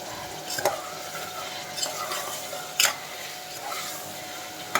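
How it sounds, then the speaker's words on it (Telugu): A spoon stirs turmeric and salt into a curry in a pan, with a soft frying sizzle underneath and several sharp metallic scrapes and clinks spaced a second or so apart, close and alone. "పసుపు ఉప్పు ఇప్పుడు బాగా కలిపేసుకుందాం"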